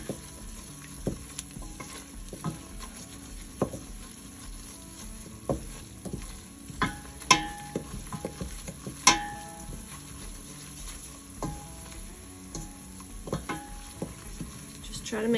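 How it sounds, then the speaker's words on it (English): Garlic powder being stirred into cheesy potato soup in a pot, with irregular spoon scrapes and knocks against the pot over a faint simmer, close and fairly quiet, with no talking. "And just stir that up real good."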